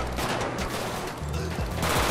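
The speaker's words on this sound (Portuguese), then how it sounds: "já começou a trocar tiro ali" Gunfire exchange in GTA V during a gang war, a dense burst of overlapping shots crackling continuously and fairly loud for a couple of seconds with no talk.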